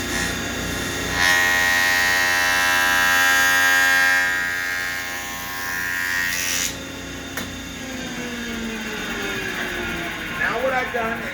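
A jointer runs as wood is pushed into its knife, producing a loud, steady buzzing whine that cuts off and winds down partway through, followed by quieter rattling handling sounds.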